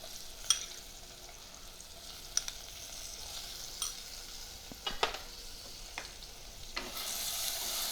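Tomato dropped into a sizzling dal tempering with asafoetida, a soft, steady fry hiss broken by scattered stirring clicks and pops, quiet and close, rising into a brighter hiss at the end.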